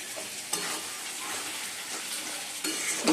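Leafy greens sizzling steadily in a hot pan while being stirred, a close continuous frying hiss with soft scraping.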